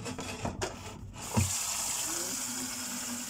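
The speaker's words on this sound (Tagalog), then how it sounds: "kukuha lang ako ng tubig para idilig dun sa halaman" Water runs from a tap into a container being filled for watering plants, a steady close gush after some handling clatter at the start.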